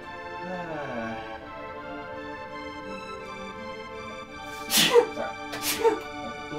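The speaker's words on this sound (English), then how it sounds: "Sorry. Bless you." A person sneezes sharply twice near the end, following a stretch of quiet melodic game music from Chrono Trigger.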